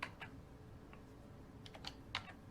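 Typing on a computer keyboard: a few faint, sparse key clicks, some single and some in quick pairs, close by in a quiet room with no talking.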